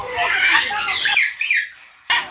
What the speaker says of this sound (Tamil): Yellow colour farad.